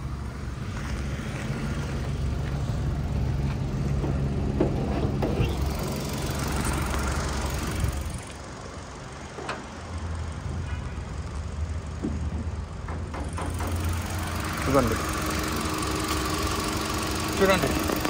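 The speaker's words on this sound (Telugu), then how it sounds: "ఇంకా ఇంజన్ చూపిస్తానండి" A 2017 Hyundai i20 Sports car engine idles with a steady low hum and faint mechanical rattle, heard close, while someone talks over it at intervals.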